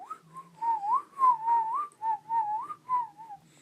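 A single warbling whistle, a melodic wavering tone that dips and rises in several short phrases with brief gaps between them, clear and close over an otherwise quiet background.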